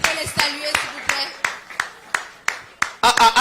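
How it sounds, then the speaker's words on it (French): A church congregation at a Sunday service claps in a steady rhythm of about a dozen sharp, loud claps, building into a burst of denser clapping at the end. "I thought you would be clapping more than this"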